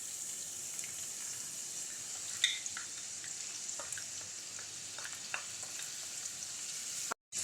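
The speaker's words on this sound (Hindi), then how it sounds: "हम प्याज को लाइट गोल्डन कलर आने तक फ्राई कर लेंगे।" Medium sliced onions fry in hot oil for masala bhindi, a soft, even hiss with a few faint pops and stirs, quiet and unbroken until a brief dropout near the end.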